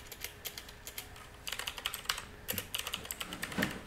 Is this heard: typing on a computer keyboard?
yes